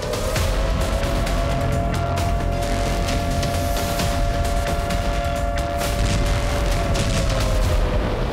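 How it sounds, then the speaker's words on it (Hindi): Loud, dense rumbling explosions and booming blasts from Russian munitions in Ukraine fill the whole stretch, heavy and continuous with no pauses. "जैसे ही यूक्रेन की जमीन पर धमाके होने शुरू हुए"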